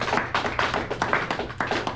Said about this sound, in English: Just give a round of applause for.